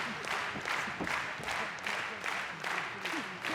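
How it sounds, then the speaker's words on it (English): Crowd at a GHC Tag Team Championship pro wrestling match applauds and murmurs steadily, a dense wash of clapping and voices with faint commentary speech mixed in. "The crowd are loving this GHC Tag Team title action."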